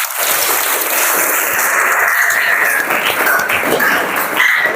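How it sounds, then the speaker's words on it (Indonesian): Students in a classroom clap together in a dense, steady burst of applause that holds for several seconds, with a few faint vocal sounds mixed into the clatter. "Tepuk tangan untuk kita semua"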